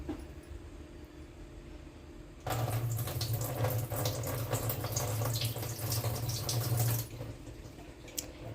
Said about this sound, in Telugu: ఇప్పుడు ఐస్ వాటర్ ఈ నీళ్ళు వంపేసి ఐస్ వాటర్ వేసుకొని ఎలా కడుక్కోవాలో చూపిస్తాను